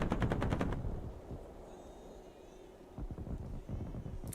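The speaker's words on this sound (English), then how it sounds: "Why is that guy firing his cannons on the airfield?" A WWII fighter plane firing its cannons on an airfield in a combat flight game, a rapid burst of distant repeating shots opening the clip, followed by engine rumble and a few scattered thuds.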